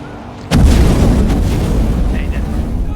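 A scripted explosion in a video game bursts loudly from quiet at about half a second, then its broad rumble holds steady for the rest of the moment.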